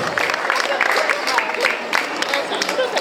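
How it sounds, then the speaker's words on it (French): An audience applauds a tap dance teacher at a forum show in Aulnay-sous-Bois, dense clapping from a crowd with scattered sharper claps and a murmur of voices underneath, fairly close and continuous throughout. "On peut les applaudir"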